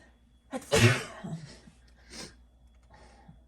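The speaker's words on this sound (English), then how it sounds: "I have to sneeze now" A single sharp sneeze bursts out close to the microphone, followed by a couple of faint breaths and small vocal sounds in an otherwise quiet indoor space.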